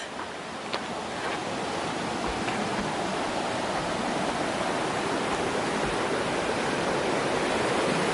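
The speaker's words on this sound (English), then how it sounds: "Yeah, and back across the river." River water flowing beside a hiking trail on the Pacific Crest Trail, a steady, full rushing roar that stays broad and constant throughout, with a few faint knocks in the first seconds.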